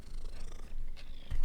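A cat purrs steadily and close, a low rumbling drone with rhythmic breathing swells over about a second and a half, alone without talk, ending with a soft bump.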